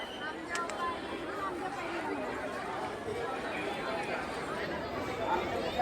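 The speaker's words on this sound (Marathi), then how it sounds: "गर्दी असते, खूप गर्दी." Steady crowd chatter fills the grounds of the Vitthal Rukmini temple in Pandharpur, a dense murmur of many voices with no single speaker standing out, holding at an even level throughout.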